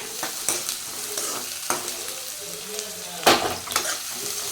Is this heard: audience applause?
no